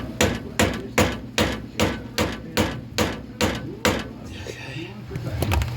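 A lower pitman arm seal is hammered into place with a washer, about ten sharp, evenly spaced metallic blows in a steady rhythm, close and loud.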